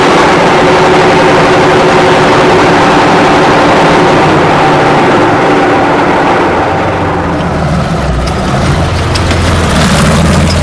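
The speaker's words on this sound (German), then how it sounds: "Nach der Instruktion starten wir den Motor." A Soviet T-44 tank engine rumbles loudly and steadily at idle, a deep, continuous heavy diesel drone with a slight shift in tone near the end.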